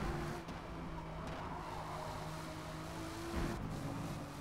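A race car in Forza Motorsport slides and scrubs its moderately worn tires, a steady, close engine drone with rough broadband tire noise that swells slightly near the end.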